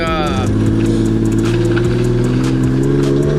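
RB-engined Nissan S13 drift car idling and revving steadily on a road, a loud, close engine tone with rising and falling harmonics throughout, while people talk over it.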